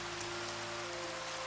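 Rain falls in the Minecraft video game as a steady, soft, even hiss with no break, quiet throughout.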